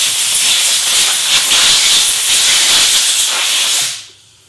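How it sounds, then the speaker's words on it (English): Compressed air hisses steadily and loudly as it blows dust off magnetic welding squares in a garage, a continuous close blast that cuts off sharply near the end, leaving near silence. "So let's just blow these off with the air and see what that looks like."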